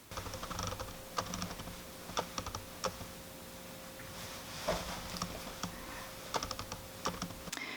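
Autofocus noise from a 50mm Canon EF lens mounted on a Viltrox speed booster on a Canon EOS M50, a faint series of soft ticks and clicks scattered irregularly over a quiet background hum.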